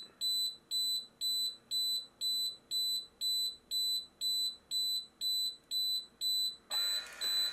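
Fire kit alarm on an Xtool laser machine sounding a steady, rapid train of about a dozen piercing electronic beeps, close and loud, ending in a sudden burst of broad hissing.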